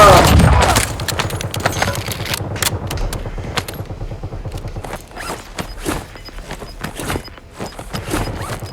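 Heavy Call of Duty gunfire: rapid automatic bursts and scattered shots ring out continuously, loud and close at first, then steadier volleys mixed with footsteps and faint in-game voices.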